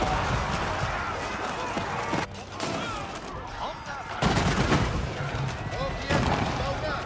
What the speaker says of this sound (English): Amazing sound effect from the revolver equipment. Sounds like a Gatling gun going off.